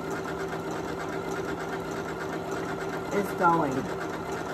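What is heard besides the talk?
Janome Memory Craft MC9450 sewing machine sewing applique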